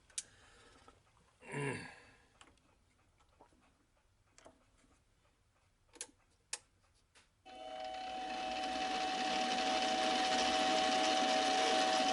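Metal lathe boring the displacer cylinder of a Stirling hot air engine, a steady loud machining whir with a fixed tone starting partway through and running continuously, preceded by quieter clicks and shop handling noises.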